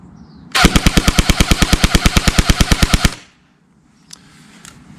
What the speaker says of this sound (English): So this is full auto mode, and we're going to try to determine the rate of fire of this gun.